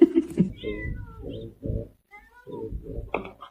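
A cat meows repeatedly at close range, a series of loud, drawn-out wailing cries separated by brief pauses.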